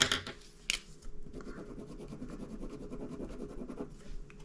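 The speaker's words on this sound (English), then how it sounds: "they are scratchy to the paper" A coloring marker scratches across paper in a quick run of close, faint rasping strokes, rhythmic and dry, with no talking over it.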